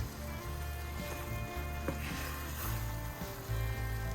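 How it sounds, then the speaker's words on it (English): Apples cooking in a pan with water and vanilla give a faint, steady simmering sizzle with small bubbling pops, low and continuous with no talking. "Cook the apples until they become softened and the liquid has thickened."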